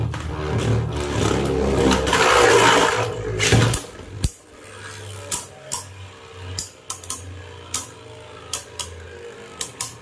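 Beyblade tops launched from a launcher into a stadium: a loud whirring rip of the launch, then spinning tops scraping and clacking against each other and the walls in sharp irregular hits.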